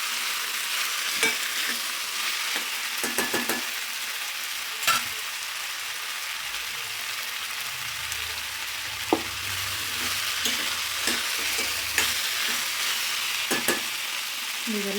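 Capsicum fries in a pan for matar paneer, a steady close sizzle carrying on throughout, with intermittent sharp spatula clicks and scrapes as it is stirred.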